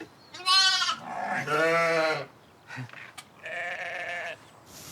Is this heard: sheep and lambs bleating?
yes